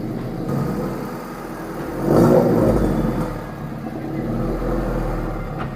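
A heavily modified Honda City engine runs on a cold start, a low, steady rumbling idle with a brief louder surge around the middle, then settling back into a close, even drone.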